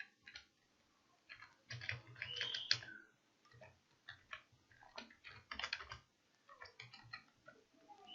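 Someone types text into a spreadsheet on a computer keyboard, giving irregular bursts of close, quiet key clicks with short pauses between words.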